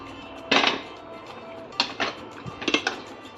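Rajma is stirred into gravy in a pot, producing a few separate bursts of a metal spoon scraping and clanking against the pot, close and moderately loud, with quieter stirring in between.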